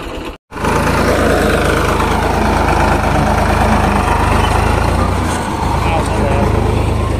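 A tractor engine runs loud and steady at over 3500 rpm with a low, rumbling chug, briefly cutting out at the start before continuing.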